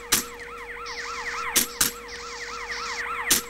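Wailing ambulance siren in GTA San Andreas sweeping up and down repeatedly, with several sharp clicks or taps cutting in over it.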